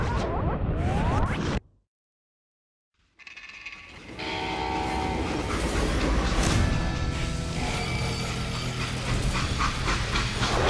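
A freight train in the Call of Juarez Gunslinger game rumbles and clatters loudly over the tracks, drops into a second of silence, then returns as a dense, continuous roar of rolling cars with high metallic squeals.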